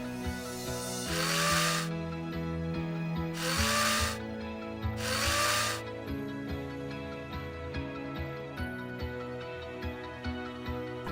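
A power driver sinks fasteners through Duralife composite decking boards into joists, with three loud whirring bursts of a couple of seconds each, followed by lighter tool clatter and handling noise nearby.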